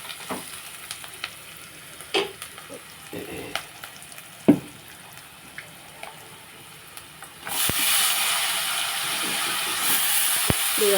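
Brinjal pieces fry with turmeric in a pan, giving a steady sizzle with scattered stirring knocks that swells into a louder, denser hiss partway through.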